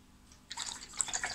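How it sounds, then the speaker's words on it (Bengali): A face-painting brush is rinsed in a cup of water: after a short quiet stretch, soft close-up sloshing and dripping water sounds start and continue to the end, with no talking. "আবারও তুলিটাকে ধুয়ে নেব,"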